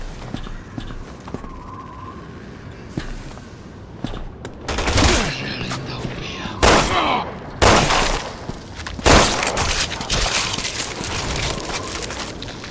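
Gunfire in Resident Evil 6, Jake's campaign, chapter 1: loud, close bursts of shots crack out in clusters over a busy rumbling background, with brief voices mixed in.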